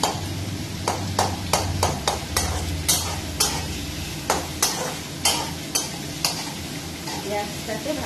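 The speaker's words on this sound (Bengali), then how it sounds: "পেঁয়াজটাকে ভালো করে ভেজে নিতে হবে।" Onions fry in oil in a kadai for baingan bharta, with a constant sizzle. Rhythmic metal spatula scrapes and taps repeat about every half second as the onions are stirred.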